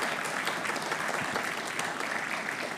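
Steady applause from an audience at a university commencement ceremony, dense and sustained clapping throughout with no voices over it.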